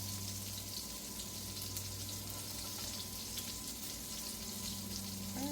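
A steady, dense sizzle of food frying in a pan as bacon goes onto a keto Frisco burger, continuous and close without any talking.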